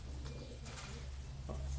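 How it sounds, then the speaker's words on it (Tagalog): A pet pigeon coos softly in a few low, steady murmurs close by, with a constant low hum running underneath and no talking. "ito yung ibon natin"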